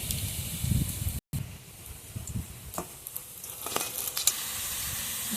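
Loitta (Bombay duck) fish pakoras fry in oil with a steady hiss and sizzle, scattered crackles popping over the continuous bubbling, broken by one brief gap.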